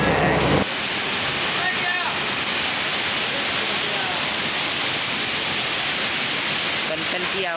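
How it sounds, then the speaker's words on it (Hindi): Waterfall at Ghanteshwar Dham, swollen by rain, pours forcefully down into a river amid dense forest, a loud, steady broadband roar that continues unbroken throughout, with no voices over it. "आप देख सकते हैं काफ़ी तेज वेग के साथ पानी ऊपर से नीचे की ओर गिर रहा है और बह के नदी में जा रहा है।"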